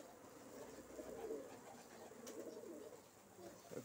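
Dagestan colour-tailed pigeons, red-tailed and black-tailed birds, cooing softly at a distance in a continuous low murmur against faint outdoor background noise.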